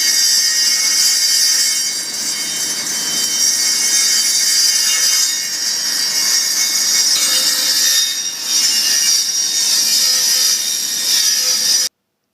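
A power saw cuts angles into pieces of wood with a steady, loud, high-pitched grinding whine. It runs continuously with small shifts in pitch and then stops abruptly near the end.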